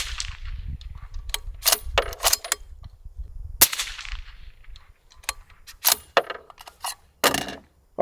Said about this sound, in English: I fired off 3 rounds, trying to be precise